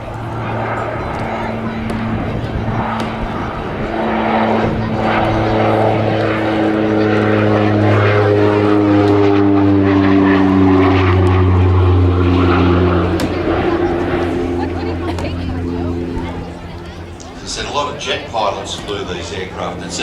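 A North American Rockwell OV-10 Bronco twin-propeller aircraft passes at an air festival, its loud droning engines rising and sliding in pitch as it flies by, with a voice speaking over the noise.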